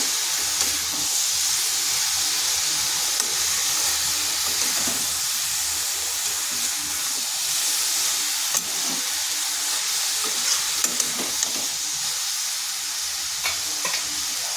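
Shredded cabbage with a medium tomato frying in a pan, stirred for a while: a continuous bright sizzle and hiss with soft scraping spatula strokes at close range, no voices.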